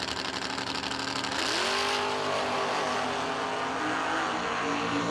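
A 1969 Chevelle drag car launches at a no-delay drag racing event, its loud engine revving hard and holding a steady high-pitched roar as it accelerates away, close and continuous throughout.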